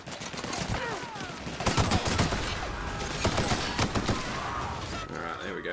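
Rapid bursts of gunfire in The Outer Worlds video game, dense overlapping shots and automatic fire crackling continuously at close range, with occasional quieter gaps between volleys.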